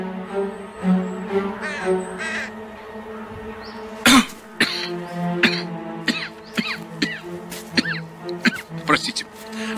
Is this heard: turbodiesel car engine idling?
no